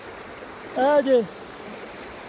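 The flooding Chenab river near Hafizabad rushes past as a steady, broad hiss of moving water, and someone speaks briefly over it.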